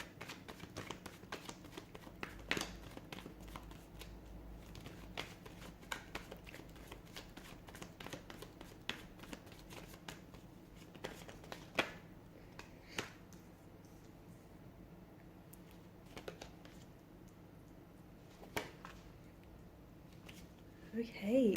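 Tarot cards are shuffled by hand close by, giving soft, quiet riffles and scattered light clicks and taps in an otherwise hushed room.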